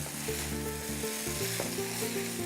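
Fried rice with onions sizzles in a pan while being stirred, a steady loud frying hiss with scraping stir sounds and no talking.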